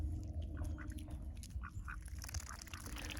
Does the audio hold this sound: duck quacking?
yes